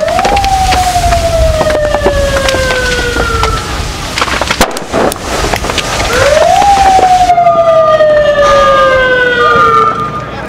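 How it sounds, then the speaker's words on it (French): Ambulance sirens wail loudly and close after a NATO bombing in Libya, two long descending tones in succession over a rough, noisy background. "En face de moi, des ambulances arrivent."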